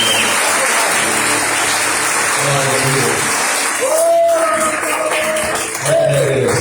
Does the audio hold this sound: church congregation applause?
yes